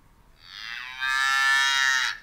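A cow moo sound effect played from a tap button, one long drawn-out bovine moo rising in strength midway, clear and alone.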